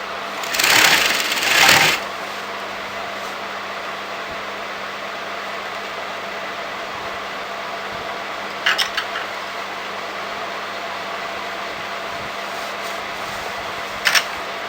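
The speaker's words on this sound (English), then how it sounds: "I'm going to sew this together." A sewing machine stitches a shawl collar onto a kurti in a steady, even whir throughout, with a couple of brief louder bursts of handling noise near the start and two short clicks later.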